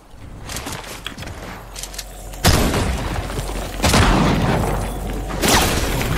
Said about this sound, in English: Oh my gosh, I got sniped.